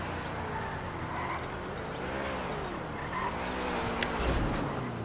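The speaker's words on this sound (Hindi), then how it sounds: "उसके गाड़ी की आवाज़ आ गई है, गाड़ी पार्क कर रहा है वो" A car pulls in and parks in GTA Online, its engine humming nearby with shifting revs and a brief tire squeal, a small knock near the end, and no voices over it.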